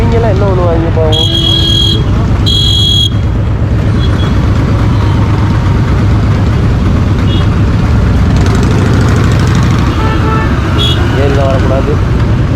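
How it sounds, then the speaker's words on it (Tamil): Loud superbike engine on a road in Rajasthan, a heavy running rumble close by amid traffic noise, with short beeping tones early on and people talking over it. "சூப்பர் பைக் சவுண்டே தாறுமாறாக இருக்கு"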